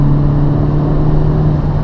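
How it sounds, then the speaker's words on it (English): Turbocharged engine of a 2015 Honda Civic Type R heard from inside the cabin, a steady loud drone with a constant tonal hum and a faint whooshing wastegate hiss running throughout, no talking. "You can just hear the wastegate a little bit from the turbo, which only serves to encourage you to drive faster."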